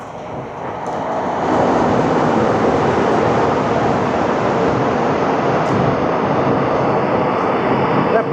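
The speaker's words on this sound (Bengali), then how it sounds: "আমাদের ট্রেন প্রবেশ করছে T50 টানেলে।" A passenger train on the Katra–Srinagar line enters the T50 rail tunnel, India's longest, its rumble swelling in the first seconds into a steady, loud, enclosed roar.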